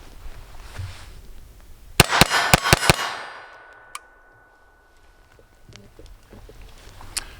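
Sig P322 pistol firing CCI Clean polymer-tipped ammunition outdoors: a rapid string of about five sharp, loud shots close together, then ringing fading away, with a single lighter crack later.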